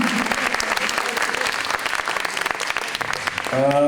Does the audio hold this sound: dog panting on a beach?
no